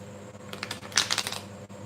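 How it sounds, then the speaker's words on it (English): Tarot cards being shuffled by hand during a reading, a quiet, close, crisp run of riffling flutters that peaks briefly in the middle and then trails off. "I'm shuffling for you now"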